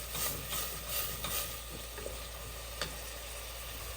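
Onions sauteing in a pan for zeera rice, a steady soft sizzle with light stirring scrapes throughout, close and moderately loud with no talk.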